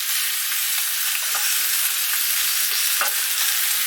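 A sirloin steak pan-sears in a hot frying pan, giving a steady, close, bright hiss of sizzling fat with small pops and crackles throughout.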